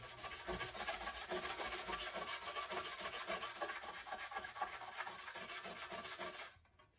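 A part of a small Hayabusa model is rubbed down by hand with a steady back-and-forth abrasive scrubbing that runs continuously and close for several seconds, then stops abruptly.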